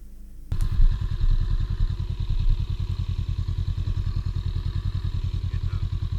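A Honda Rebel 500 motorcycle starts up and rides with a low, pulsing engine rumble that stays close and steady after an initial thump, with a beginner rider working the clutch.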